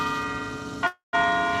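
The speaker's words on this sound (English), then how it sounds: "I'm just going to wait till the bells are done." Campus bells at Johns Hopkins near Krieger Hall ring with steady sustained tones, cut by a brief gap of silence before resuming just as loud, with no talking.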